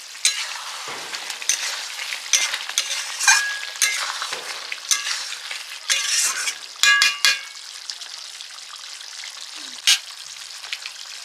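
Meat curry cooks in a pan with close, crackling sizzles and bursts of spattering, punctuated by scraping stirs at an uneven rhythm, fairly loud with no talk.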